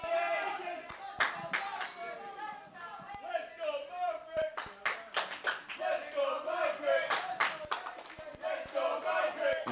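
Wrestling crowd at a BTW show in Bolton clapping and cheering throughout, with sharp rhythmic claps and bursts of shouting over a steady roar of voices.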